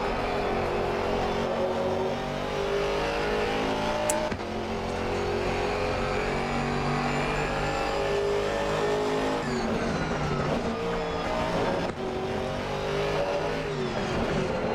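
Race car engine at full song around Suzuka in Gran Turismo 4, loud and continuous with rising and falling revs through gear changes, a sharp click early on and a dip as the car brakes into a corner.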